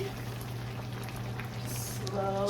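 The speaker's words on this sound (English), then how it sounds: "We had a nice little sizzle because of the broth in there" Broth and vermicelli hiss and bubble steadily in a hot pan as they are poured in. The sizzle is continuous and moderately loud, with small pops and splashes over a low kitchen hum.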